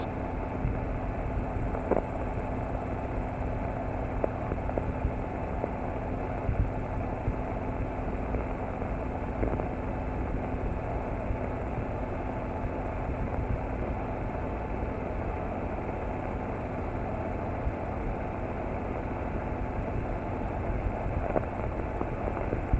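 A helicopter flies over the Los Angeles coastline near King Harbor and LAX, its engine and rotor making a steady drone heard from inside the cabin. The hum stays even throughout, with faint periodic thumps and no talking.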